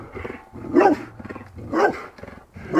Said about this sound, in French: Tiens, des chiens. On va filmer les chiens.